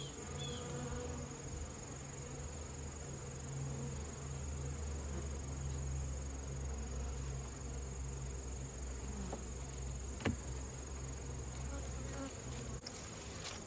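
Honey bees buzz continuously around an opened beehive, a dense steady drone close by, with a faint click or two near the end and no speech.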